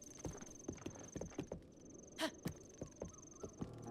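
Hooves of a giant horse in Zelda: Breath of the Wild clip-clop in a steady walking rhythm, close and fairly soft, with a thin tonal game sound humming in the background.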